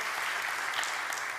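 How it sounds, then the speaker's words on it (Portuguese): Church congregation applauding during a sermon, a steady continuous wash of clapping from many hands throughout, with no talk over it. "vamos aplaudir a Jesus por isso"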